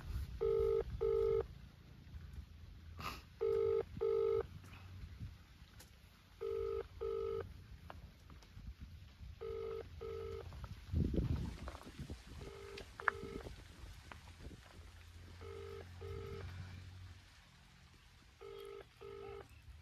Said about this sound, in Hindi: बैल तो जाती है पर उठाता कोई नहीं